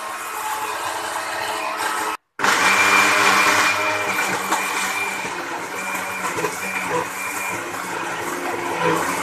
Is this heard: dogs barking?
no